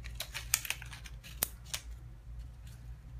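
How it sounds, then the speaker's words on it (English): Scissors snip a plastic water bottle into flower shapes, giving a few crisp close-up cuts and clicks scattered over about three seconds against a quiet room hum. "Here, you just go with your scissors."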